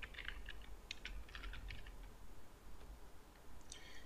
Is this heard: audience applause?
no